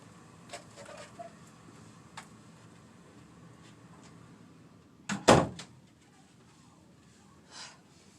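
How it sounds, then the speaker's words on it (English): A door being closed indoors, a single loud thump near the middle, with a few faint knocks and taps before it and a soft bump shortly after. "Let me close the door."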